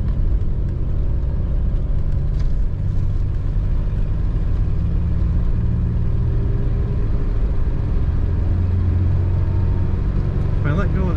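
A 1985 Oldsmobile Cutlass Supreme Brougham cruising on the road, its engine giving a steady low rumble with constant road and wind noise inside the cabin.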